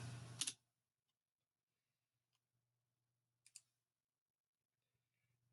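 A computer mouse clicks a mark button, giving a couple of faint, isolated clicks in near-total silence, with a brief louder noise at the start and again at the end.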